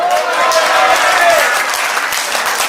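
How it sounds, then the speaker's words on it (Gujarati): Crowd at a devotional gathering claps steadily and loudly in a dense wash of applause, with voices rising through it. "ઉપર હાથ તાળી વગાડીને બોલો"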